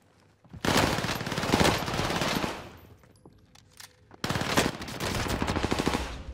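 Rapid automatic gunfire in a first-person shooter video game, two loud bursts of repeated shots separated by a short quieter gap with faint clicks.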